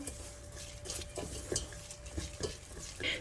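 Minced ingredients for a pumpkin sujebi are squished and mixed by hand in a bowl, producing soft, close, moist squelching and rustling pulses with a few light clinks and no voices.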